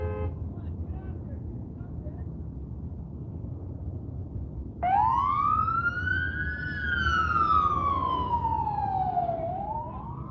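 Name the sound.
emergency vehicle sirens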